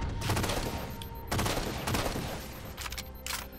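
Bursts of automatic weapon fire in the video game Halo 4, dense rapid rattling volleys that stop and start in short bursts, loud and close.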